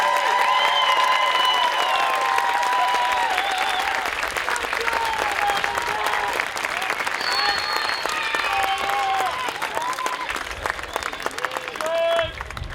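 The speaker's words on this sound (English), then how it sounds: "Let's give them a round of applause." A graduation audience at Springs claps loudly and steadily for high school freshmen, a dense, sustained wash of applause with scattered cheers and voices mixed in, tapering slightly near the end.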